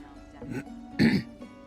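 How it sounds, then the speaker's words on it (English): Griff, a character in the video game Divinity 2, clears his throat in two close, gruff bursts, a short rasp followed by a louder, fuller one, with nothing else around them. "I only hear the sound of Griff clearing his throat"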